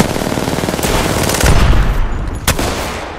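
Rapid automatic gunfire in the video game Apex Legends, loud and close, sustained bursts with a sharp extra shot near the end, no talking.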